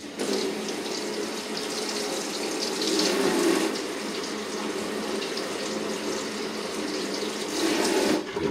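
Water hisses in a steady spray as a vinyl record is rinsed on a Vinyl Styl cleaning machine, continuous and fairly close, briefly swelling louder twice before cutting off at the end.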